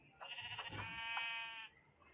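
A sheep in Minecraft bleats once, a wavering nasal cry lasting over a second, close and clear over faint background noise.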